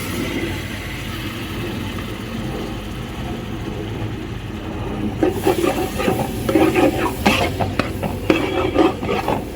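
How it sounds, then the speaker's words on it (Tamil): Chopped tomatoes sizzle and hiss in a hot pan for a biryani masala paste, growing louder midway as a spoon stirs and scrapes through them. "தக்காளி வந்து நம்ம ஊறுகாய் பதத்துக்கு வதக்கணுங்க"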